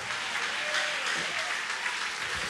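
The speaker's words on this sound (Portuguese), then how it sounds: "Quem orou com fé pode bater palma e dar glória para Jesus." A church congregation applauding, a brief burst of dense, steady clapping with voices mixed faintly underneath.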